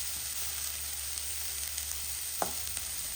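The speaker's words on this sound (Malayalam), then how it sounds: "എണ്ണ ചൂടായ ചട്ടിയിലേക്ക് നമ്മൾ ചെറുതായിട്ട് അരിഞ്ഞിട്ടുള്ള ഉള്ളി ചേർത്ത് കൊടുത്തിട്ടുണ്ട്." Finely chopped onions with green chillies sizzling in hot oil in a pan, a soft even hiss with a brief stir-scrape partway through.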